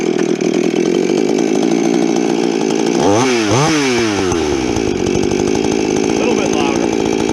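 A Husqvarna 440 chainsaw fitted with a dual-port muffler runs loud and close, with a steady idle broken by a couple of quick revs up and down midway.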